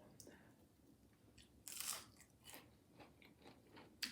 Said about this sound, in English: They have a good crunch.